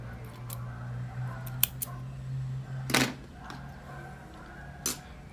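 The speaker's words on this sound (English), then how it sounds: "I will cut the yarn" Scissors snipping yarn during a crochet project, a few sharp close metallic clicks and one louder cut over a faint steady hum.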